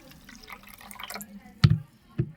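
Salt and sugar are stirred into a glass of water: faint liquid swishing gives way to two sharp, close clinks of a spoon against the glass about half a second apart.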